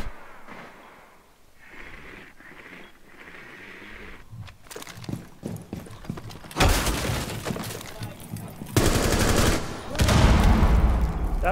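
Loud, dense bursts of gunfire and breaking sounds from the video game Rainbow Six Siege, building after a quieter start into heavy sustained volleys near the end.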